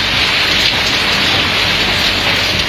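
Heavy rain lashing down in Karachi during a sudden storm with strong winds, a loud, dense, steady roar that never lets up.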